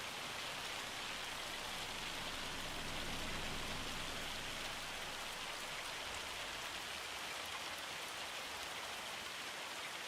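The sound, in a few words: hail falling, video game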